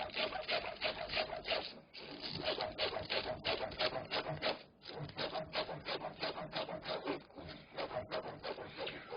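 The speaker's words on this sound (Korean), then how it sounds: "당겨 썰 때는 칼을 잡고 당기면서 썰어" A knife draws through raw anchovies on a cutting board in quick, repeated close slicing strokes, steady and rhythmic with brief pauses, no talk.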